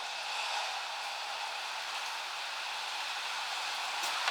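Steady rain falling outside, a constant hissing wash of drops that holds at an even level throughout, with no voices.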